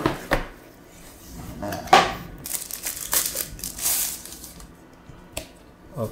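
Rustling, crinkling packaging and bumps of plastic as a Honor Pad 9 Smart Bluetooth Keyboard is unboxed, with several sharp knocks and longer crinkly bursts, close and moderately loud, no talking.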